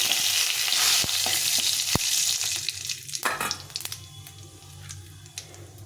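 Dried red chilli, cumin seeds and a bay leaf sizzle in hot oil for tempering, a close, steady crackling hiss broken by a few sharp pops and clicks that eases toward the end.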